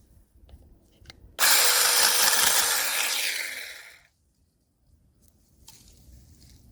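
A small battery mini chainsaw bites into a thick tree branch, its close, harsh buzzing cut lasting about three seconds before tapering off as the branch gives way, then near silence.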